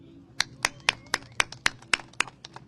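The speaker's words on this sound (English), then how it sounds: "Let's have a round of applause, please, for Pablo Alvarado" Slow, rhythmic hand clapping at a press conference by attorneys, about a dozen crisp, evenly spaced claps, close and clear, with no talking over them.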